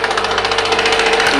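A fishing trawler's engine at a busy fishing harbour in Kuakata, a close steady rapid chugging throb with no voices.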